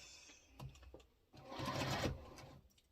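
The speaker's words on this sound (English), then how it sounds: "All I got to do is just sew them on there." A sewing machine stitches quilt block pieces together at close range: a few short taps, then a steady whirring run of about a second, ending in a couple of soft clicks.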